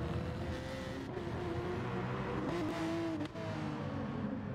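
Race car engine in a sim racing video game drones and shifts pitch as a car spins out, a steady mid-loud whine with a brief dip near the end and no speech.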